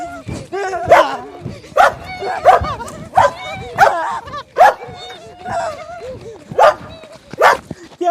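A village dog in a rural Gujarati setting barks repeatedly in short bursts, chasing people off, with yips and a whimper mixed in; loud and close, with people talking and exclaiming over it.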